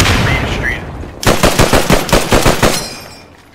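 Machine gun fire in the World War II shooter game Post Scriptum: a loud, rapid string of about a dozen evenly spaced shots, preceded by a muffled stretch of noise and fading into a short echoing tail.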